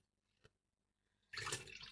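Warm water at 42 degrees, about 2.5 decilitres, is poured into dough ingredients for egg-free, milk-free cinnamon buns: a faint drip early on, then a loud, steady splashing pour for the final second or so, close to the listener.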